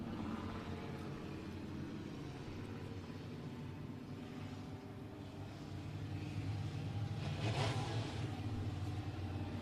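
Six Northern Sport Mod race cars come around Barona Speedway in Lakeside, California, for an eight-lap heat. Their engines make a continuous droning roar that swells louder toward the end as the pack approaches and revs past.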